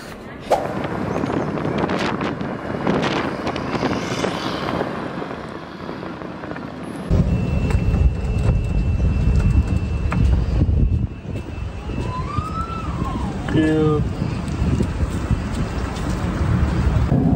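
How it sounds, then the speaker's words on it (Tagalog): Heavy wind buffeting a moving golf cart on a tour of the Ancient City in Bangkok, a loud steady rumble that swells midway, with a passing engine and faint voices in the background. "Pag nag-golf cart naman kayo guys, mahangin."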